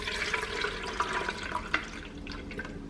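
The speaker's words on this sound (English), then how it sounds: "just seeing the juice flow in here" Green juice streams from a home juicer into a container, a steady soft gurgling trickle with small drips and splashes, close but quiet, with no speech.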